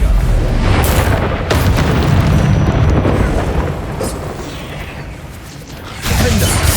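A loud, booming fiery blast from the Confringo spell in Hogwarts Legacy rumbles heavily, dips slightly, then a second sharp burst hits near the end amid game combat noise.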